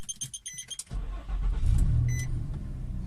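A car engine idles smoothly after its misfire was traced to wrongly fitted spark plug wiring; a series of beeps comes first, then the engine settles into a steady, close hum.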